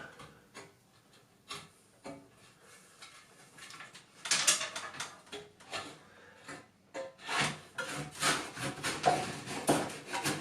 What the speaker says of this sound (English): What I'm literally doing is just moving the dowel rod up to the clamp.